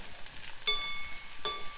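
Tomato stirred into a simmering broad bean curry in a pan, a soft low sizzle running throughout with two brief sharp clinks of a spoon against the pan, no talking.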